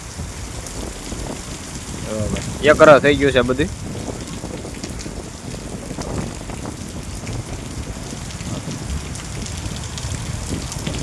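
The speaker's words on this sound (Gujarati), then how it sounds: "હવે વરસાદ વધી ગયો" Heavy monsoon rain pours down steadily as a continuous broadband hiss close by, while someone talks over it in several short stretches.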